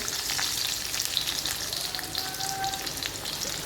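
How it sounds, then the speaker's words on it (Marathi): Chopped onion and garlic frying in a pan, an even close hiss of sizzling oil with a few faint crackles, no talk over it. "आता आपण कांदा घालूया लसूण घालूया"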